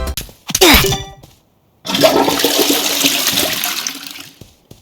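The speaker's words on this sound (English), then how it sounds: "Level 19 in the Free Pass is the Toilet Flush kill effect." A loud, close toilet flush kill effect from the Roblox game Bedwars: a short splashy gurgle, a brief pause, then a longer rushing swirl of water that fades out.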